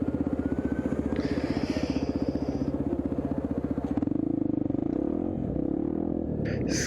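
Honda XR Tornado motorcycle riding through Lima traffic, its single-cylinder engine throbbing in a steady, fast rhythm close up, then revving and shifting as it moves on, with some wind noise.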